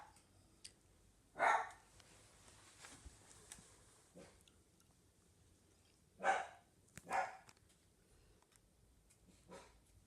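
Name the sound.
dogs barking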